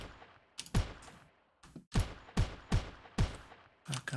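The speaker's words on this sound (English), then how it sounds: "that burst fire definitely roots your feet for a while, so it's kind of quite a commitment" Repeated bursts of gunfire from a gun in the video game Shogun, six or seven sharp, loud shots in an irregular rhythm, each with a short decaying tail, close and without talk.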